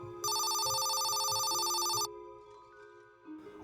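A telephone rings in a single continuous electronic trill lasting about two seconds, loud and close, then stops abruptly, followed by a low background tone and faint ambient sound.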